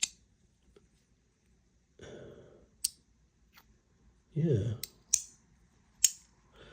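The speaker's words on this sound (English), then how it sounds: "Oh, okay, so you get some clicking. Oh, nice. Okay, cool. Very clicky, in fact." Sharp clicks from a MetonBoss Owl haptic fidget coin, several isolated snaps spread irregularly, with a brief spoken word and some handling rustle between them.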